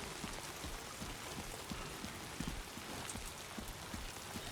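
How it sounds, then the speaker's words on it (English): Steady rain falls in the video game Death Stranding 2, a faint, continuous hiss with scattered soft drops and no voices. "Hopefully this rain won't last too long."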